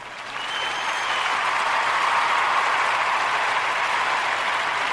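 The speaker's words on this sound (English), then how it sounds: "So let's give her a round of applause" A round of applause from a group, swelling quickly into a steady, even wash of many clapping hands that holds for several seconds without speech.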